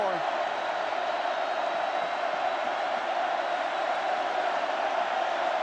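Stadium crowd of over 101,000 at an LSU football game against Ole Miss, a steady broad roar of cheering voices, sustained and even throughout without breaks.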